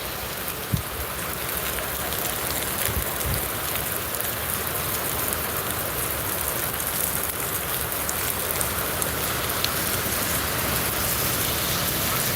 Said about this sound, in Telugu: ఈ వర్షం తగ్గే అవకాశం అయితే లేదు